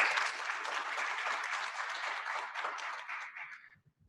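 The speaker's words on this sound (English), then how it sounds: "So I think they deserve a round of applause." Audience applause at the opening session of an Internet Society Ethiopian chapter event, a full burst of clapping that holds steady and then thins out and stops.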